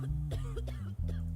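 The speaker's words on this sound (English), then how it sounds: "Don't cough in my courtroom." A series of short coughs, three or four quick bursts over a low droning background tone in the JudgeSim courtroom game, close and fairly faint.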